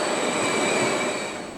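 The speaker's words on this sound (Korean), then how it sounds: "세련된 모습으로 변신한 제천역에 고속 전철을 타고 들어서니까" A high-speed electric train pulls into Jecheon station on the newly opened Jungang Line double-track, a steady loud rumble with high wheel squeal fading slightly at the end.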